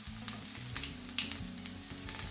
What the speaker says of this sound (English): I'm gonna fry this onion here.